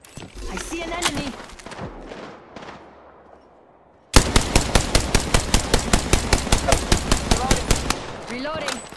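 Rapid automatic gunfire from the Apex Legends video game, a dense rhythmic burst of evenly spaced shots lasting about four seconds, loud and close, after a stretch of voiced game chatter and ambient noise.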